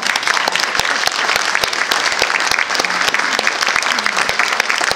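An audience applauds a professor called up at an exhibition event: sustained, dense clapping from a crowd, steady and loud for about five seconds with individual sharp claps standing out.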